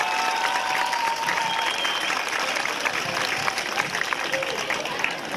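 Loud, steady applause from a large crowd at a student sports and culture festival in Epirus, Greece, continuous clapping filling the room with a few faint voices underneath.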